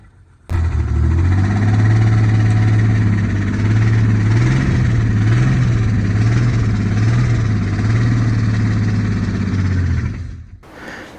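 A junkyard Jeep 2.8 engine, sitting for years and revived with a new starter wire, battery and carburetor gas, idles loudly and steadily with a slightly uneven throb, then cuts off near the end.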